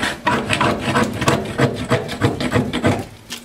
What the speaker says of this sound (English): I'm gonna go ahead and get this all scraped off.